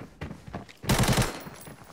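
Gunfire in the video game Arena Breakout, a quick loud burst of several rapid shots after a few softer thuds, with nothing else heard.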